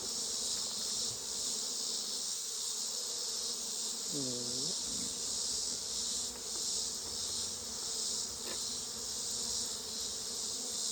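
Honeybees buzz steadily around an open hive being checked before winter, a dense, constant drone close by with no talking.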